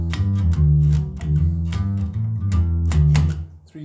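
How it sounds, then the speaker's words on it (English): Bass guitar plays the intro riff, part two: a repeating run of punchy, sustained low notes with steady rhythm, loud and close with no talking. "It's going to be a riff that sounds like this."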